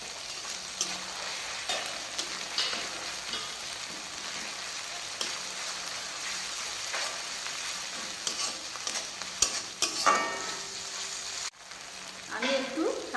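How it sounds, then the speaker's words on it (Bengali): Ginger-garlic paste fries among lightly browned onions in a pan for ghugni, giving a continuous close sizzle broken by scraping stirs and a few louder clatters near the end. "আমাদের পেঁয়াজটা কিন্তু একটু লাইট ব্রাউন হয়ে এসেছে। এবার আমরা আদা রসুনগুলো দিয়ে দেব।"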